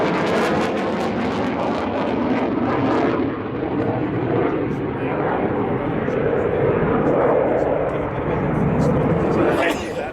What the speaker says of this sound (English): we now see the fitters positioning